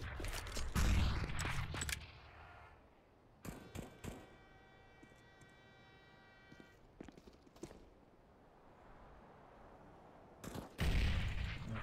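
Pistol fire from Desert Eagles and a P250 in a CS:GO match on the Train map: loud, sharp shots in bursts at the start and near the end, with quieter scattered reports in between.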